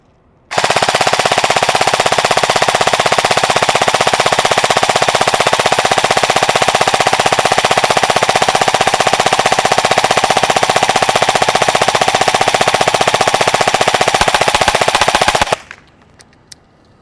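An EMG Sharps Bros airsoft AEG rifle fires on full auto in one long, unbroken burst of rapid, loud buzzing shots that runs about fifteen seconds before stopping abruptly.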